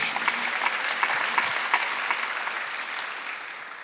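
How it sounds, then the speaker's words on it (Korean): A church congregation bursts into applause during a Sunday service. Many hands clap in a lively patter that fades gradually toward the end. "박수 하나 더 주세요"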